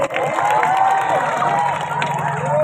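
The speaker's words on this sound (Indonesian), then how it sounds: "Tepuk tangan untuk Pak Wabuk dan kita semuanya." Lively audience applause and cheering at a public religious gathering, with dense clapping under shouts and whoops from the crowd and a sustained tone running beneath, loud and close throughout.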